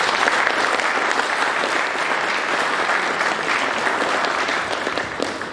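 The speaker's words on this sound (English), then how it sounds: "give a big hand, round of applause" An audience claps steadily and loudly for a motivational speaker, a dense sustained round of applause that tapers slightly at the end.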